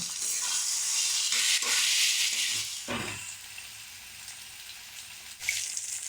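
Spinach and egg curry spice paste stir-fried with salt in a hot pan gives a loud sizzle with scraping stirs, then drops to a quieter simmer before a brief flare of hissing near the end.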